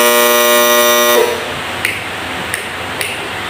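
A buzzer wired into a simple switched circuit gives a loud, harsh, steady buzz for just over a second, then stops abruptly, followed by three faint sharp clicks.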